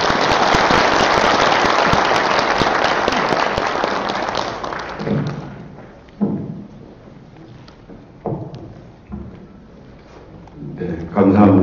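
An audience claps loudly to welcome elders at the opening ceremony of an international Buddhist academic conference. Dense, sustained applause fills the first several seconds, then thins out and fades into scattered noises.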